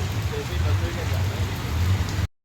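Heavy rain pours down in a dense, continuous hiss with a low rumble beneath it, and then stops abruptly after about two seconds.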